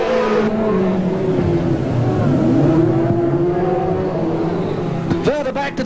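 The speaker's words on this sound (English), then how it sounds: "Ron Spink again on the inside as they race off turn 4" Sedan race cars in a Grand National Sedans heat race off a turn on a track, their engines a loud, continuous roar with rising revs, heard under an excited commentator.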